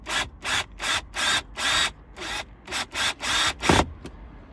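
A cordless drill fitted with an impact adapter drives a car bolt back in with eight or nine short, loud whirring bursts separated by brief pauses, ending in a sharper clunk as the bolt seats.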